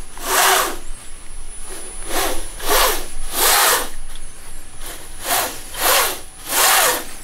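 A power tool cutting a piece of wood in a workshop. It runs in repeated loud, rasping strokes of roughly half a second each, with short quieter gaps between them.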